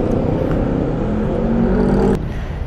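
A tuned motorcycle engine runs loud and close with a sustained rev that holds steady, then drops off abruptly near the end, with no talking over it.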